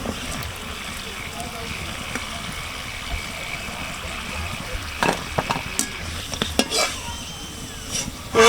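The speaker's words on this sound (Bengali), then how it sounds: "এবার বাকি পুরিগুলো আমি সুন্দর করে ভেজে নেব" Egg and potato puris frying in hot oil, a steady sizzle under a busy background, with a few sharper clinks and scrapes toward the end.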